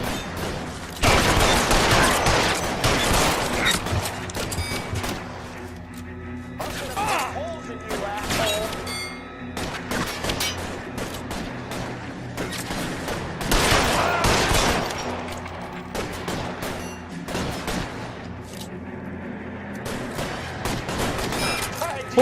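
Rapid bursts of gunfire crackle through a shootout in the video game LA Noire, dense volleys and scattered shots repeating loudly over about twenty seconds, with voices talking over the fight.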